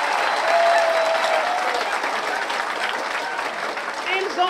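A crowd at an Afro-American gathering in Brazzaville applauds steadily, a dense wash of clapping with a voice speaking over it.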